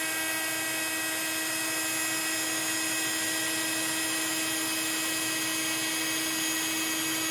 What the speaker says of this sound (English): You're literally going to hold your heat gun still.